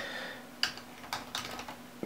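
A few sharp keystrokes on a computer keyboard, in small uneven clusters, close and fairly quiet over a steady low electrical hum.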